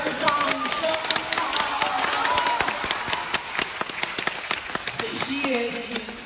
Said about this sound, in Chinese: 来点儿掌声